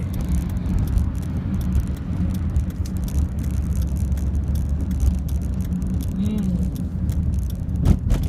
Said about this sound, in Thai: ขับรถในเชียงใหม่ต้องเปรี้ยวนิดนึงนะเพื่อนๆนะ